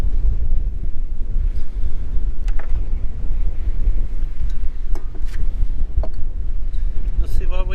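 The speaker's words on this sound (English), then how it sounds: "this wind is so crazy" Strong wind buffets the microphone outdoors beside beehives, a steady low rumble throughout with a few brief clicks and a voice briefly heard near the end.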